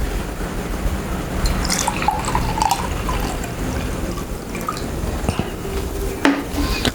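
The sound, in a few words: water poured into an empty glass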